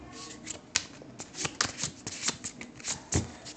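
A deck of playing cards is shuffled by hand for a card trick, giving a run of crisp riffling bursts and flutters at close range with no talk.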